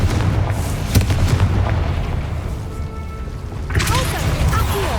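Confringo fire spell blasts in Hogwarts Legacy, a loud, sustained booming rumble with a sharp hit near the start and fresh crackling bursts toward the end, with a voice briefly in the mix.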